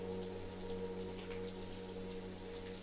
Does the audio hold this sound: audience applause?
no